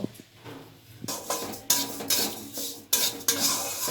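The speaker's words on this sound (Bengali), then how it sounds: "এটা শুকনো খোলায় আগে একটু হালকা করে ডালটা একটু হালকা করে একটু ভেজে নেব" Dry moong dal is stirred in a hot, oil-free wok with a spatula, producing repeated scraping, rattling strokes at an irregular rhythm, close and fairly loud, with no voices.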